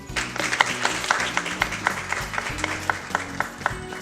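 An audience at a youth policy debate applauds the opening, a modest crowd clapping in distinct uneven claps over a low background hum, moderately loud and fairly close.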